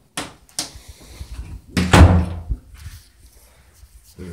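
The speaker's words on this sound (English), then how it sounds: "There's the door." A bathroom door in a freshly renovated room, with a new tub, bumps and thuds shut at close range amid a few sharp knocks, with faint talk in the background.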